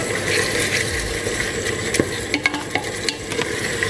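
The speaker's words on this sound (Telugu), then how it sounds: "ఇలా ఇది ఫ్రై అవ్వనిద్దాం" Ginger paste fries over a high flame in a pressure cooker for chicken biryani: a loud, steady sizzle up close, with scraping stirs and small spattering pops toward the end.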